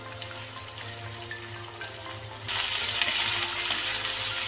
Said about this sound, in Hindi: ऐसे स्टर करते रहना है, बीच बीच में हम चला लेंगे।